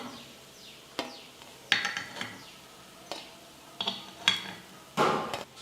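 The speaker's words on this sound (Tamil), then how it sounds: "இப்போ நான் ஒரு பிளேட்டுக்கு மாற்றிக்கிறேன்." Cooked paniyaram being lifted from the pan onto a plate, a series of sharp metallic taps and scrapes spaced irregularly, with no talk.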